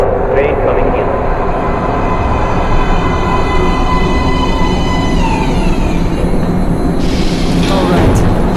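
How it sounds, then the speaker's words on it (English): A metro train pulls into a platform in the video game Metro Last Light, a loud, steady rumble with high squealing tones that rise and fall before a brighter burst near the end. "Please step away from the edge of the platform. Train coming in."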